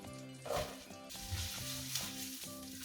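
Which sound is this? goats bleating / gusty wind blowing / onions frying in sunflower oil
onions frying in sunflower oil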